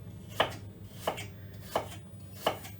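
A knife slices thinly through peeled, cored fruit on a board, four crisp evenly spaced cuts about two-thirds of a second apart, close and clear over a low steady hum.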